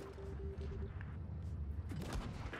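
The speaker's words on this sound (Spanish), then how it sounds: "el TVP literalmente me dispara una vez por cada vez que yo le disparo" A tank cannon fires in the mobile game WoT Blitz, with a muffled battle rumble under a low droning tone and a sharper blast near the end, and no talking.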